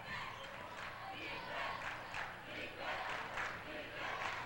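A basketball student section cheers from the stands in a varsity high school game, a distant, echoing crowd roar rising and falling in rhythmic chant-like surges.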